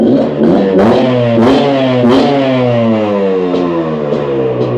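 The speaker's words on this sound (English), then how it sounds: "If you haven't heard of the KT250 by KO yet, you're gonna soon." A Kayo KT250 two-stroke motorcycle engine revs up close and loud, its buzzy harmonic note climbing in several sharp blips and then settling as the pitch falls, with no speech.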